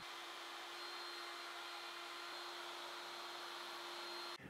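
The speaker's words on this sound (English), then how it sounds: "I need to round over all of the edges, and I'm going to do that at the router table" Router table rounding over the edges of cherry wood bed rails: a steady, loud, high-pitched motor whine with a constant tone that runs throughout, then cuts off abruptly at the end.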